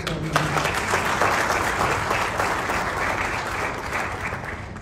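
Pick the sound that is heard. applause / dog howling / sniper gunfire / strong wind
applause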